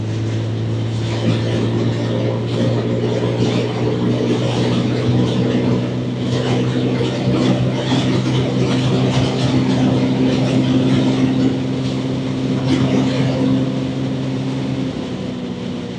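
Lexmoto Cypher motorcycle engine accelerating on the road, a loud steady droning hum with strong harmonic tones over heavy wind rush, sustained for about fifteen seconds before easing off.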